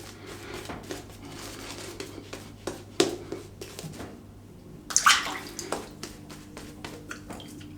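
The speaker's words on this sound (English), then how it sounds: "let me rinse, I'll come back for pass number 2" Water running and splashing as a face is rinsed between shaving passes with a Yaqi chrome razor and Benny's of London cream, intermittent gushes and drips with a louder splash midway, near and fairly quiet.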